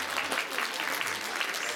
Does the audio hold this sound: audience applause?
yes